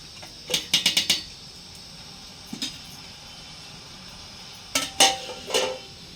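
A metal lid is set onto a pot of country chicken curry, giving a few sharp clinks and clattering taps in short bursts, close by and fairly quiet, with no talking.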